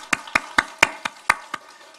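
A church congregation gives a round of applause in worship, heard as a handful of distinct, fairly close claps spaced irregularly over two seconds rather than a sustained roar.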